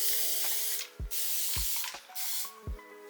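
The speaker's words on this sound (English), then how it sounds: "wetting it down with a bit of water first." Several short bursts of water spray hiss from close by onto hair, separated by small knocks and clicks, with the sprays starting and stopping quickly.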